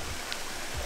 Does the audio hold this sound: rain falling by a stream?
yes